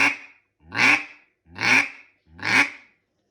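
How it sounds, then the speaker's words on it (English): Four evenly spaced quacks blown on a hand-held duck call, each a short, nasal, rising-then-falling blast about a second apart, close and clear with silence between. "So that's your basic quack."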